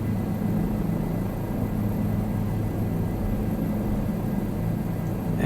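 A helicopter in Microsoft Flight Simulator 2020 gives a steady, dense engine and rotor drone that stays loud and constant throughout, with no voices.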